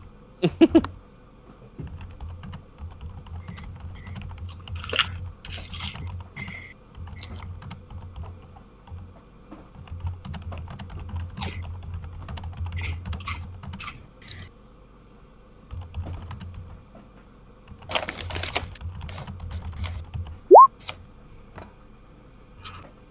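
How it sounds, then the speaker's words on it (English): Keys on a computer keyboard clatter in irregular bursts and pauses over about twenty seconds, close by, with a low steady hum underneath and occasional louder clicks. "I was typing."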